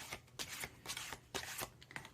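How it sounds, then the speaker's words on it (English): Tarot cards are shuffled by hand in quick riffling bursts, about five crisp close ruffles with brief pauses between them, quiet and with no talk. "One of the things that helps me channel at times is literally just shuffling cards."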